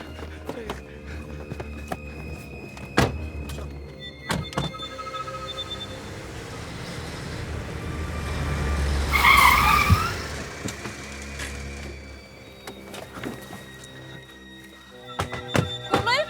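A car door thunks shut, then an engine revs and the car pulls away with a brief tire skid, followed by further knocks and rumbling nearby.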